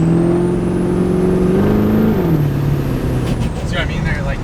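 Twin-turbo truck accelerating with its engine droning loud and close, a high turbo whine climbing above it, then a gear shift that drops the pitch; a person talks faintly underneath.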